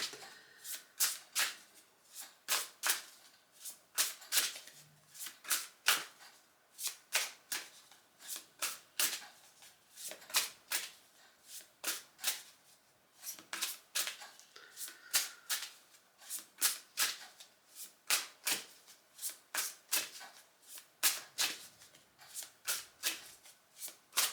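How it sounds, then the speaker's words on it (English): Two huge decks of oracle cards are shuffled repeatedly in quick riffling bursts, a crisp papery flutter recurring in an uneven rhythm, close and fairly quiet. "I've chosen two decks that are huge, absolutely huge, to shuffle."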